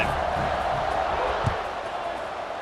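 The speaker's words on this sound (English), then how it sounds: "this crowd is feeling themselves after that last drive" A stadium crowd in the EA Sports College Football 26 video game roars in a dense, continuous wash of cheering during a kickoff. The sound stays steady and loud throughout, with one brief thump partway through.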